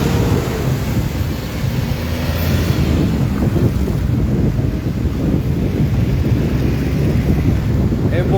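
Rough sea waves wash against the Libreville seafront under heavy wind buffeting the microphone, forming a loud, continuous roar close by.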